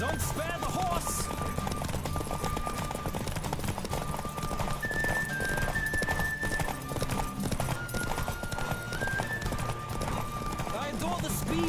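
Game-world hooves from The Witcher pound out a continuous clip-clop as a horse races, joined by faint neighing amid dense music and ambience, with voices speaking over the top.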